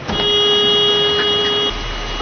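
A car horn sounds in one sustained honk of about a second and a half during a film scene, loud against a dense background, then cuts off abruptly.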